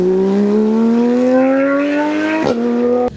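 A Porsche GT3 RS engine howls on a racetrack, its pitch rising steadily under load before a sharp gear change and a second brief shift, loud and close.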